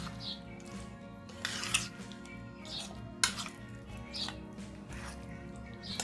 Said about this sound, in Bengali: এখন আমের সাথে এই মশলার উপকরণগুলো ভালো করে মিশিয়ে নিচ্ছি